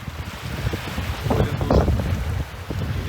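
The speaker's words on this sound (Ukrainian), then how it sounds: "дуже сильний штормовий вітер" Strong storm wind buffets the microphone in a continuous roar on a small boat at sea, with gusts swelling in the middle over splashing water.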